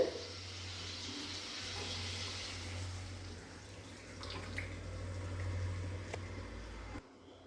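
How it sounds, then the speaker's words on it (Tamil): Water pours into a pan of mushroom milk curry, a faint steady trickle over a low hum, ending abruptly. "தேவையான அளவு வந்து தண்ணி ஊற்றிக்கோங்க"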